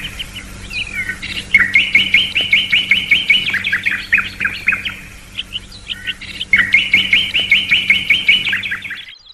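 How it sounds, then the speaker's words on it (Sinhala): Birds singing nearby: loud, rapid chirping trills in two long bursts with softer calls between them, against a quiet background. "කුරුල්ලන්ගේ හඬ මට හොඳින් ඇසෙයි."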